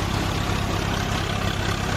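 Close by, a Swaraj 744 FE tractor runs a wheat thresher, its diesel engine thumping in a steady low rhythm beneath the thick, even roar of grain being threshed, loud and unbroken throughout.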